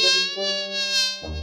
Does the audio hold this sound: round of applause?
no